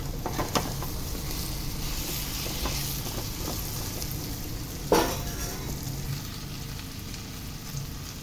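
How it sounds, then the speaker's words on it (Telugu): Drumstick (moringa) pieces sizzle steadily in a pan with onions for a masala curry, a continuous close frying hiss with a single sharp clatter partway through. "ములక్కాడ ముక్కలు వేస్తున్నాం."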